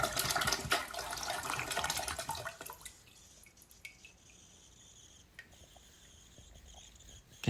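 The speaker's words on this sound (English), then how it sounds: "we're going to flush and get some water going before plunging" Water rushes through a clogged toilet tank as it flushes, a loud gushing that drops after a few seconds to a quieter trickle and drip with occasional small clicks.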